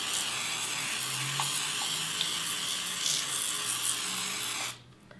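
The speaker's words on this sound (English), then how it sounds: "it's a nice even mist of oil" A homemade cooking oil spray bottle releases a steady, hissing mist of oil in one continuous spray lasting several seconds before cutting off abruptly, close and fairly loud with no talking.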